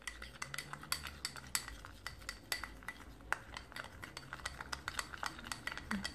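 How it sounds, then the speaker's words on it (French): A spoon stirs yeast and sugar in warm water in a glass, clinking sharply against the sides in a quick, steady rhythm, close and clear with no voices. "Je mélange bien ma levure avec le sucre et je la mets de côté"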